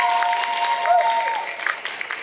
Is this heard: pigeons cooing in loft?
no